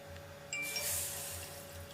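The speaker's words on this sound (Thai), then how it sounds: "แล้วก็เทน้ำลงไป" Water is poured into a pot of caramelizing sugar while cooking Thai braised pork sinew and eggs, a short splashing gush starting mid-clip over a faint low background hum, with no talking.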